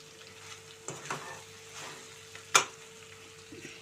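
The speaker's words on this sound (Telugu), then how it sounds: "మనం దీన్ని ఫ్రై చేసుకోవాలండి." Chicken frying in a pan with finely chopped onion, four green chillies and curry leaves: a quiet, continuous sizzle with occasional stirring scrapes and one sharp utensil clink.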